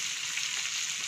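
Shrimp cubes sizzle while frying in a pan with oil, giving a bright, steady hiss close by with faint stirring, no voices.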